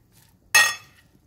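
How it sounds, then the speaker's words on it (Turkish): A single short clatter of utensils stirring apple and radish salad with dressing in a bowl, a bright clinking burst lasting about half a second, close and alone with no talk. "Güzelce karıştırın."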